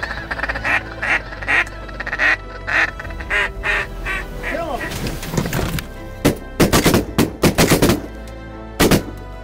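Ducks quack in repeated bursts at moderate distance, followed by a cluster of sharp, loud cracks near the end.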